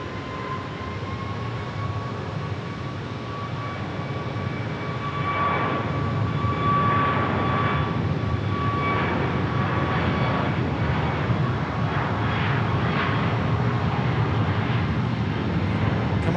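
A China Airlines airliner at Phoenix Sky Harbor Airport gives off a steady, distant jet engine roar that swells slightly midway and holds as a continuous broad rumble, with no talk.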